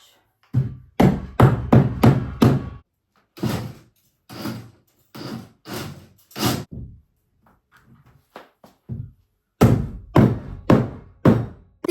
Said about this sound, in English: Use a rubber hammer so you don't knock a hole in it